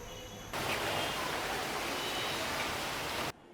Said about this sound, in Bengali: দুপুর পর্যন্ত হয়ে গেল বৃষ্টি প্রচণ্ড বৃষ্টি